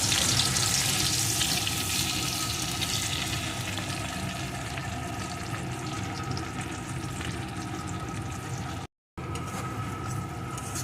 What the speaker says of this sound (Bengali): এখন পেঁয়াজ কুচিটাকেও একটু ভেজে নেবো